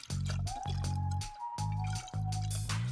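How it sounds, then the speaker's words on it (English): Sunflower oil pours into a glass cylinder for a home science experiment, a liquid trickle with soft drips and faint glassy ringing that comes in several short bursts separated by brief pauses. "pour some oil into the cylinder"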